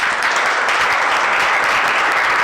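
A live audience at a drug rehabilitation talk bursts into steady, loud applause that fills the whole stretch without a break, with no voices rising above the clapping.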